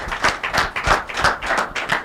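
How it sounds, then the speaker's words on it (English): A small studio audience on a talk-show call-in program claps in a quick, fairly loud burst, with about eight to ten distinct claps in a steady rhythm close to the microphone. "We'll clap for round once again."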